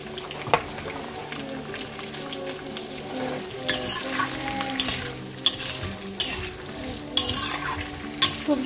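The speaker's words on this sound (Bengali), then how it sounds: "সবজিগুলো মোটামুটি ভাজা হয়ে গেছে।" Beans, carrots and potatoes being stir-fried in a pan, with a steady sizzle broken by repeated sharp scrapes and clanks of a spatula against the pan, no voices.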